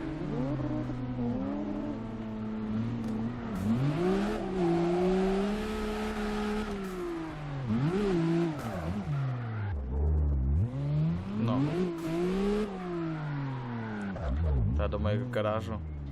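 Car engine in CarX Drift Racing Online, revving and rising and falling in pitch through a slow drift, with tire noise, steady and close, under continuous talk.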